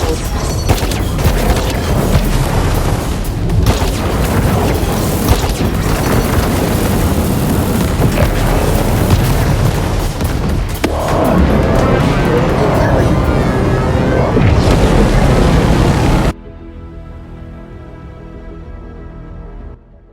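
Missile blasts from the mech combat game War Robots: Frontiers roll out as a dense, loud barrage of booms and rumbling impacts, continuous for about sixteen seconds before cutting to a quiet tail.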